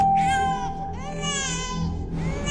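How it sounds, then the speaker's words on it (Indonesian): A baby crying in a damp, long-unused house, with loud wailing bursts in a rising and falling pattern over a humming background. "Ada dede bayi nangis."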